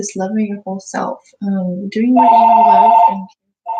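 A telephone bell ringing in a steady electronic trill for about a second, heard over and between someone talking.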